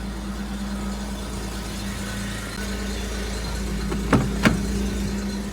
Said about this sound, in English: Don't worry about the exhaust leak.